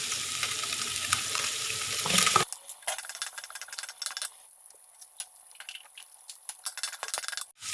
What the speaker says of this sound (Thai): ตามด้วยผักคะน้าที่สุกยากครับ ใส่ลงไปเลย